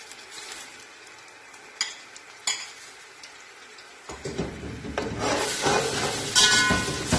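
Quiet scraping and a couple of clicks, then a sudden loud sizzle as garlic-ginger paste hits a hot pan, frying steadily up close.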